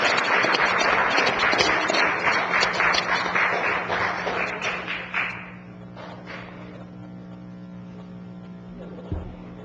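Round of applause at an Oceanside city council meeting honoring a police officer: a crowd claps steadily for several seconds, then the clapping thins to scattered claps and fades into a quiet room with a faint electrical hum.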